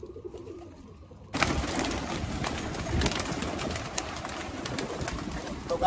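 Pigeons gather on a home rooftop while being fed grain. Their cooing and fluttering come close and continuous under a broad hiss of outdoor noise, after a short quieter opening.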